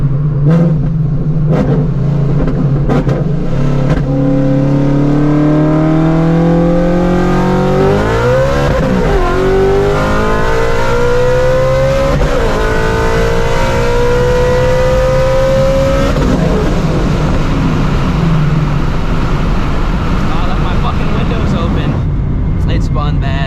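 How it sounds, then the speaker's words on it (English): A 900-horsepower Shelby GT350 with a new clutch pulls hard in second gear, engine howling as it revs and climbs, tires spinning and squealing without hooking, loud and close, with a voice talking over it. "it just ran its fastest 60 to 130, completely blowing the tires off in second gear"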